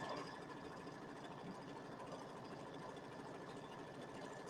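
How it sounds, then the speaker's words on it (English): An embroidery machine stitching wavy up-and-down quilting on a pieced flag quilt block, a faint steady mechanical whir and rapid needle chatter running without pause. "It's doing that little wavy up and down quilting."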